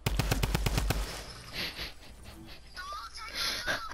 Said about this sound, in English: Bro, are you really shooting me with that thermal?